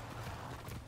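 A horse in the video game Far Cry 6 gives a brief, quick run of soft hoofbeats, clip-clopping faintly for under a second.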